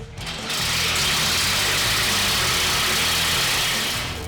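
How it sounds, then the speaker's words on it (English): A big engine rumbles to life and settles into a loud, steady roar, fading slightly at the end. "hearing the monster truck start up was like, wow, raw power"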